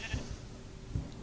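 Minecraft sheep bleating twice in a video game, two short low bleats spaced about a second apart over a quiet steady background.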